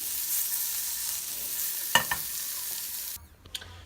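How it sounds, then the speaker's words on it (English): Sausages frying in a pan for breakfast, a steady close sizzle with a couple of brief scraping knocks as the pan is moved, dropping quieter near the end. "I basically start moving the pan around just to get them brown like that on each and every side"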